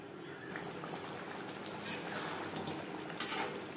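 Potatoes simmer in a thick mutton-fat gravy for alur dum in a pot, giving a steady, soft bubbling burble throughout with a couple of faint utensil clinks.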